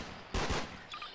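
A single sharp gunshot cracks out in a Garry's Mod Trouble in Terrorist Town round, short and fairly close, followed by a faint electronic blip.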